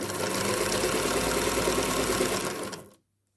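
A freshly oiled Singer Featherweight sewing machine stitches fabric in a steady, close, loud mechanical whir for about three seconds, then stops abruptly into silence.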